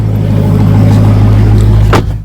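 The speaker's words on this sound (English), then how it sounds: "we're gonna see if we can get his car to do the burnout" A car engine roars loudly and continuously at high revs ahead of a burnout at an empty house, a close, heavy droning rumble that holds steady before briefly dropping off at the end.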